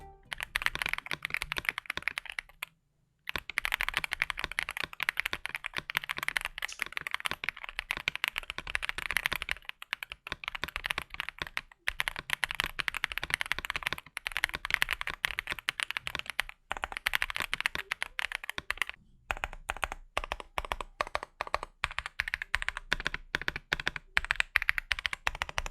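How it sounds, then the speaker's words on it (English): Typing on a KBDFans Tiger 80 mechanical tenkeyless keyboard with a soft, bouncy configuration: a continuous stream of rapid, close key clacks and thocks at moderate volume, with a few brief pauses and no talking. "Do check out the sound test."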